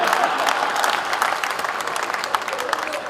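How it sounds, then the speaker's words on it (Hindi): An audience at a kavi sammelan poetry recital during a shopping festival in Jaipur claps: a dense, loud burst of applause that tapers slightly toward the end, with faint voices mixed in. "तालियां मालियां क्या आप लोग कह के ही बजाते हो क्या"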